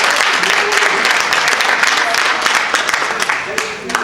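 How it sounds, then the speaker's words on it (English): Audience at a family summit giving a speaker another round of applause, dense sustained clapping from a large crowd, loud and continuous, tapering slightly at the end. "Can we give her another round of applause?"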